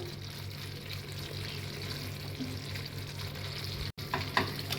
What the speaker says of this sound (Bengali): পনিরটা দিয়ে একটুখানি আমি ফুটিয়ে নেব, 2 মিনিট 3 মিনিট 4 মিনিট মতো